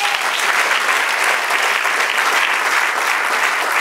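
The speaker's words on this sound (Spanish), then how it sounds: "Denle un aplauso ahora al Señor." Loud, steady applause from a large crowd, sustained clapping filling the whole stretch without letting up.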